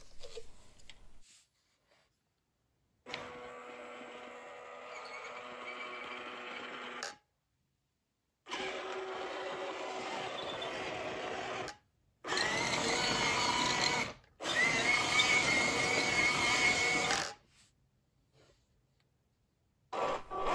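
GoolRC Ripsaw 1/12 scale RC crawler tank driving, its small electric motors whining in several sustained runs of a few seconds each with silent gaps between, close and steady.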